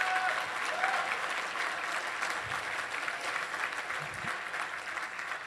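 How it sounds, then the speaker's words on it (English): Steady applause from a high school pops concert audience in an auditorium, sustained crowd clapping throughout without a break, a round of thanks for a band booster. "So we just wanted to give Lisa a round of applause"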